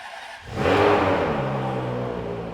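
A Ferrari 599 GTO V12 with a single-clutch gearbox revs up sharply after a brief quiet moment, its raw, bassy exhaust swelling loud and then holding a steady, deep drone close by.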